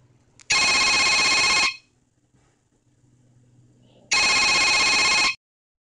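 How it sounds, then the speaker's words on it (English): A phone ringtone sounds twice, each burst a bright electronic ring lasting about a second, separated by a quiet pause. "let's listen to the default ringtone as I press the Ringtone button"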